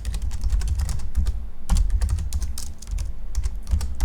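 Rapid keystrokes on a computer keyboard while a command is entered, a dense, steady run of close, clicky taps with a few brief pauses, no talk over it.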